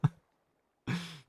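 A person clears their throat twice: a short low rasp, a pause, then a longer guttural clearing, close to the microphone with no other sound.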